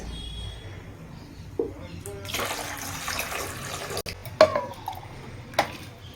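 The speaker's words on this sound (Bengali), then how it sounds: "এখন নেব হচ্ছে গরম জল আর জলের বালতির মধ্যে শ্যাম্পুর পাতাগুলো নিয়ে নিয়েছি এই যে গরম জল" Hot water is poured into a bucket of shampoo leaves outdoors in cold weather, a soft rushing splash for a couple of seconds followed by a few faint knocks and drips, fairly quiet against the background.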